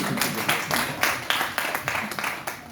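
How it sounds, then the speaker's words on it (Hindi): An audience claps at a lively question-and-answer event, a steady run of sharp, fairly close hand claps with brief gaps between bursts, no talking over it. "तो इसी खुशी से इनके लिए ताली तो बजा रहे हैं"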